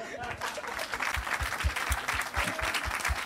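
A church congregation applauding, steady dense clapping from a crowd filling the space throughout.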